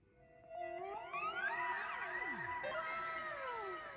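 A synth part of gliding, wavering tones that sweep up and down at random, layered and continuous, moderately loud with no voices.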